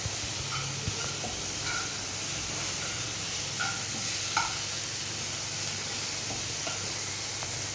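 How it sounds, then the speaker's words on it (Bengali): Tomato puree, chopped green chilli and ginger paste sizzle and hiss steadily in a pan while a utensil stirs them with occasional light scrapes and clinks, with no talking. "এবার একটু নেড়ে এর মধ্যে আবার আমি আদা পেস্টটা দিয়ে দিলাম।"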